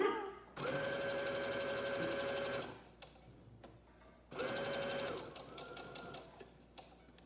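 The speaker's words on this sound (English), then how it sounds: "So let's start sewing." A sewing machine stitches a checkered quilt in two long, steady runs of whirring motor and rapid needle clatter, with a quieter stretch of handling sounds between them.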